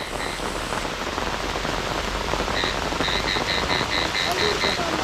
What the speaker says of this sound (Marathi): पाऊस आलाय पाऊस